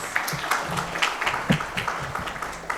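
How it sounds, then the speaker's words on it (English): Audience applause after a talk on gender issues in Zimbabwe, a short, even patter of clapping from a moderate crowd, heard throughout without a clear finish. "Can we give them a round of applause"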